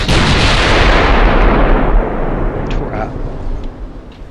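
Heavy warship guns fire at aft turrets in a naval battle in the game Ultimate Admiral: Dreadnoughts, one massive booming salvo up front followed by a long rumbling roll that fades, with a voice speaking faintly beneath it.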